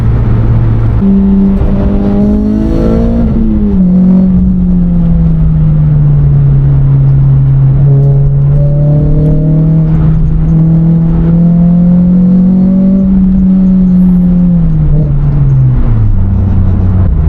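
Renault Clio 197/200 engine fitted with a Sprogley STX induction kit, revving up and holding a steady, loud, honking drone before dropping back down, with no talk over it.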